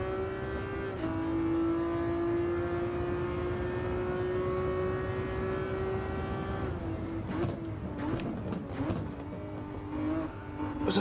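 A Ferrari GTO engine at full throttle in Gran Turismo 7 holds a steady, loud tonal drone that climbs after a gear change, then breaks into choppy, irregular revving near the end.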